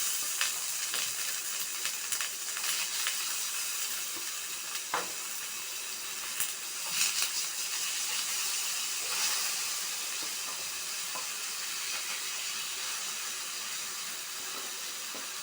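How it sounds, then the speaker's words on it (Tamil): Marinated fish sizzles steadily in hot oil in a pan, a loud continuous crackling hiss with scattered sharper pops and spatters. "இப்போ இது மேலே இந்த ஊற வச்ச மீனை போட்டுருங்க"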